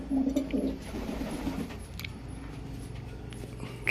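Breeder pigeons in cages coo softly and nearby, with a cluster of calls at the start that fades into quieter cage rustling.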